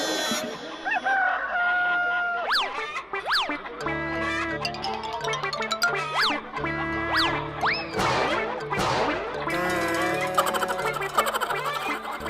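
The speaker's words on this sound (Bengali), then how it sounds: "কিরে পল্টা, মুরগি দেশি না পোল্ট্রির?" Chicken clucks and crowing calls with swooping pitch, repeated several times over lively music with no talking.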